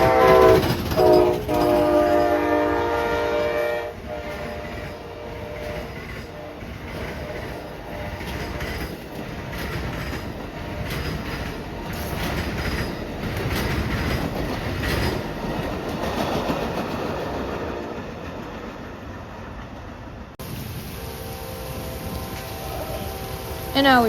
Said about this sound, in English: I found out this is Amtrak PL40 coming from Lakeland to Tampa